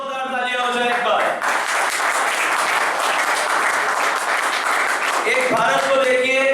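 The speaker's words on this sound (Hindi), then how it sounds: "तो जोरदार तालियां हो जाए एक बार।" A crowd at a presentation competition breaks into loud, sustained applause. A voice is heard just before the clapping swells and again as it begins to die down, with dense clapping filling the middle.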